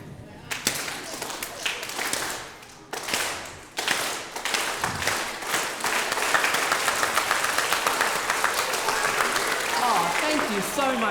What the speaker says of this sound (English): together we are going to be clapping